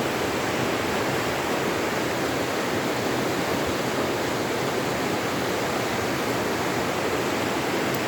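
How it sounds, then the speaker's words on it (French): A river flows in a constant, full rush of water, a broad steady roar with no breaks, heard close and alone. "je veux vraiment vous montrer la rivière"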